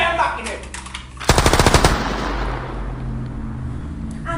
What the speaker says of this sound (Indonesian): Langsung saja aku tembak ini.